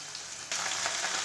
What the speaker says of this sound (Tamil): நம்ம போட்ட வெண்டைக்காய் வந்து அந்த கடலெண்ணெயிலேயே நல்லா வதங்கி வரட்டும்